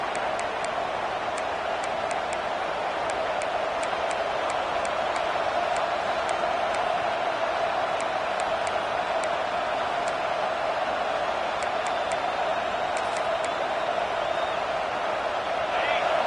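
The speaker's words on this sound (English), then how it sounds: "This crowd bringing the energy and noise early." A stadium crowd in College Football 25 roars as a steady, dense wash of noise, with faint ticking clicks scattered across it and a constant hum running underneath.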